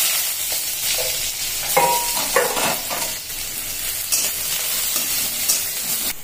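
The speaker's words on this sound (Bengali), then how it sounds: "পেঁয়াজ কুচি দিয়ে দিচ্ছি" Chopped onion frying in hot oil with fenugreek and fennel seeds, a loud continuous sizzle with scraping stirs from a spatula in the pan, steady throughout without voices.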